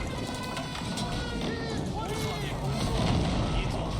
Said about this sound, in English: Trebuchets should be making a hole here.